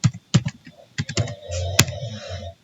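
A password is typed on a computer keyboard at a Linux terminal: a short, uneven burst of close, crisp key clicks with small pauses between strokes.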